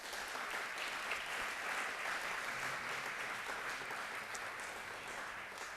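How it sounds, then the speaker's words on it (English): Film festival seminar audience applauds as a guest is welcomed onstage, a steady wash of many clapping hands throughout, fairly soft and distant. "Big round of applause for Lahani."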